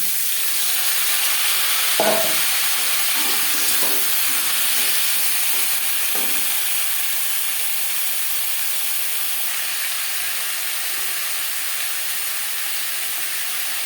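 Four peeled, thinly sliced potatoes fry in oil in a pan for a pabda fish curry with eggplant: a loud, continuous hiss and sizzle, with a few stirring scrapes early on.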